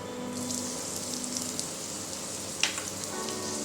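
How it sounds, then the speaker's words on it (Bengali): Whole cumin with grated ginger and garlic frying in a pan gives a soft, steady sizzle with faint crackles and one brief louder pop, and no talking. "গোটা জিরেটা একটু ভাজা হয়ে গেছে। এবার এর মধ্যে দিয়ে দেব আদা এবং রসুন কুচি।"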